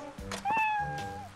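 In Like a Dragon: Ishin!, a cat gives one clear, drawn-out meow lasting about a second. It sits close and prominent, with soft game ambience underneath.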